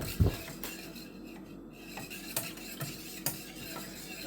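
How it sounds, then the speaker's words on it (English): A whisk stirs an eggnog mixture of milk and cream in a pot, giving soft, irregular metallic clinks and scrapes against the pot over a quiet low hum, close and fairly faint. "So now what I'm gonna do is I'm just gonna keep whisking this."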